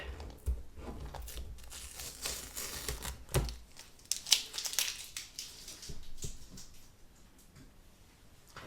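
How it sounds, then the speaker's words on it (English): Masking tape peels off an embroidery hoop on a Brother Innovis V5LE embroidery machine setup, with close, quiet crinkling and tearing rustles in an irregular series, alone with no voices. "Okay, so I'm going to remove the masking tape."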